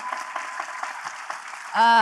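A startup pitch audience claps briefly and thinly, a muffled, narrow-sounding patter of applause that is cut off near the end by a sustained bright electronic tone or jingle.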